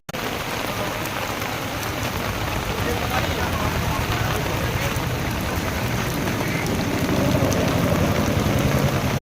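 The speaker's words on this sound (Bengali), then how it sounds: "বৃষ্টি পড়ছে না, বৃষ্টি হচ্ছে।" Heavy rain pours steadily at the pigeon market in Santipur, a dense, even hiss of drops hitting surfaces without pause.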